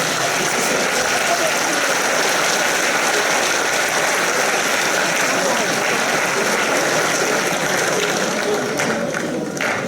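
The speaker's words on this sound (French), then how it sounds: "je vous demande ce soir de faire un tonnerre d'applaudissements pour les bénévoles de l'association" A crowd at a sports trophy ceremony in Soustons gives thunderous applause for association volunteers, a loud, continuous roar of clapping that never lets up.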